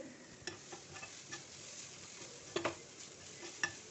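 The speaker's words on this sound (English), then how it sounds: "Mix it well and keep stir frying the veggies." Vegetables and chopped spinach being stir fried in a pan, a faint low sizzle with light scattered scrapes and taps of a spatula, a few sharper clinks near the end.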